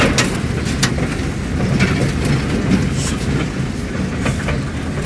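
A 1960s SUV drives along, heard from inside the cabin as a loud, continuous rumble of engine and road noise laced with irregular clattering rattles and knocks.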